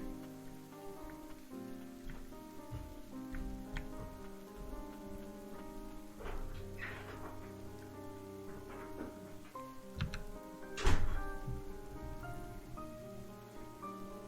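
Rain falls steadily in the video game Ender Lilies, a continuous soft patter under layered melodic game music with occasional brighter accents.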